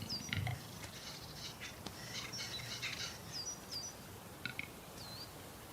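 Capercaillie birds in a forest clearing during the mating contest give faint, scattered chirps and sharp clicks, with quiet woodland ambience between calls.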